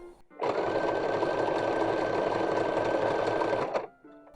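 A sewing machine stitches panels for a 19th-century-style baby corset, one continuous loud mechanical whirr of about three seconds that starts and stops abruptly, heard up close.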